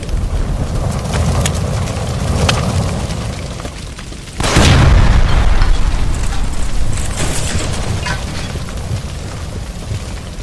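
A gas line blown apart by gunfire in the L.A. Noire video game, a sudden loud boom that swells into a long roaring rumble of fire and debris, close and dominant after a stretch of lighter noise.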